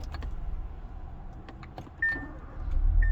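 A 2016 Hyundai Veloster Turbo starts with a push button. A short electronic chime sounds first, then a soft, low engine rumble swells up near the end. The startup stays quiet and close.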